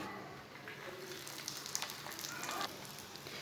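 Roti bread frying in oil on a hot tawa, a soft steady sizzle with faint crackles, quiet and close.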